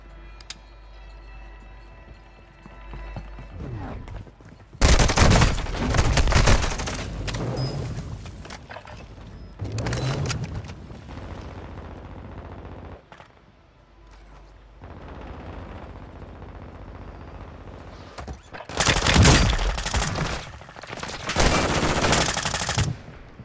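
Heavy gunfire in the video game Call of Duty Modern Warfare II, with long bursts of automatic fire and explosions in two loud clusters separated by quieter stretches of battle noise.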